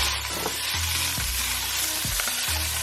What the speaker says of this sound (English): And this you just saute with some Maggi and